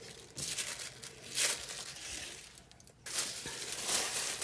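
Thin tissue paper gets crumpled and bunched up by hand for a mixed-media craft project, giving close, crisp crackling rustles in two long bursts with a brief pause between them.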